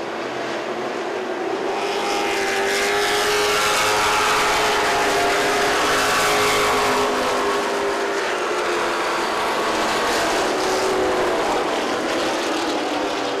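Race cars circling Wythe Raceway during a weekly division race, a loud, sustained roar of engines with rising and falling passes as the pack sweeps by, continuous and close with no talk over it.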